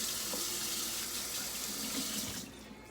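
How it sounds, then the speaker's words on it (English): Running water from a tap splashes over hands being rinsed in a sink, a steady close hiss of flowing water for nearly three seconds that cuts off at the end. "I'm just going to rinse my hands off."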